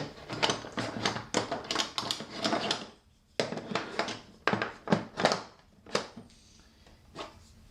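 A handle attachment is fitted onto a power tool with a rapid series of sharp plastic and metal clicks and ratcheting clacks, close and fairly quiet, pausing briefly midway before a few final taps.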